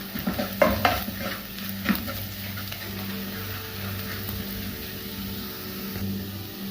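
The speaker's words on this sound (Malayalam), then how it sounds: "ഇതൊന്ന് മിക്സ് ചെയ്യാം." Kashmiri chili powder being stirred into a Kerala sardine curry in a pan, a few spoon knocks and scrapes at the start over a low steady simmering sizzle, fairly close; no speech.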